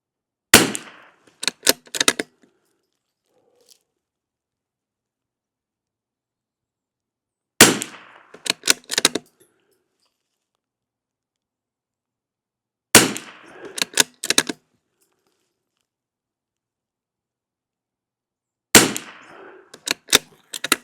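Gunshots from a rifle firing CCI SV ammunition lubed with bear grease ring out outdoors in four sharp volleys spaced several seconds apart, each a loud crack followed by a few quicker follow-up shots, with silence in between.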